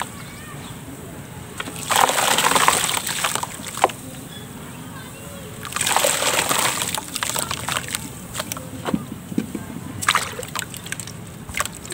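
Water poured onto gachi clay gives two loud sloshing, splashing bursts a few seconds apart, followed by scattered small drips and clicks, with people talking nearby throughout.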